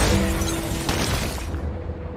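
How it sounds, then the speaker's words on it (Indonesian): Loud crashing and shattering noise of gunfire and walls collapsing, a dense burst of debris and impacts that fades out after about a second and a half. "Terdengar suara tembakan seperti di dalamnya sedang terjadi sebuah peperangan hingga menyebabkan beberapa tembok"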